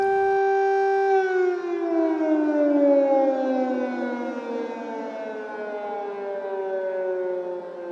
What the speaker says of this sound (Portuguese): soam as sirenes em Kiev, o que significa que poderá estar a aproximar-se um ataque